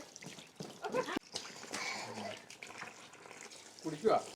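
Water pouring into a paddling pool: a steady rushing splash with some sloshing, fairly faint, under people talking and brief laughter.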